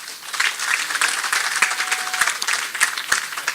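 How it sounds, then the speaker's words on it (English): Crowd applause at an awards ceremony for a corporate sponsor, dense and sustained clapping from a large audience with a few sharper individual claps standing out near the end. "A big round of applause for them"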